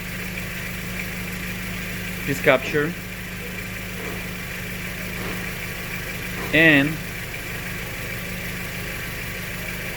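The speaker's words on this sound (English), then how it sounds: "They are occurring some misfire right now." A car engine with a misfire idles with a steady low hum and faint uneven roughness, while someone speaks briefly in two short bursts over it.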